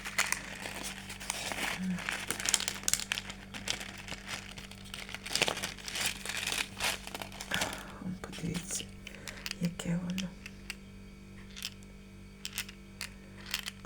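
Plastic packaging crinkling and rustling as a newly unpacked synthetic black item is taken out, with bursts of crackling and sharp crinkles under someone speaking Ukrainian, close and moderately loud.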